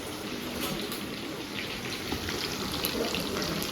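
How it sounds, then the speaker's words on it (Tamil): Water pours steadily in a home kitchen, making a continuous close splashing gush with a faint hiss and no breaks. "தண்ணி உள்ள ஊத்து"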